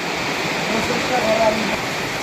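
Rain falling steadily outdoors, a dense, even hiss close by that continues without a break; a voice speaks faintly beneath it.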